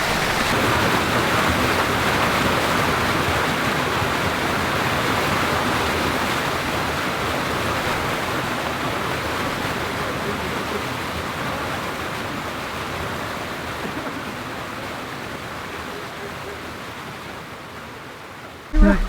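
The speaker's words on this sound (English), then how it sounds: "now we're just chilling in a hot spring" Steady rushing water flows continuously at a canyon hot spring, a broad even hiss like a small stream or cascade, loud and close, with no pauses throughout.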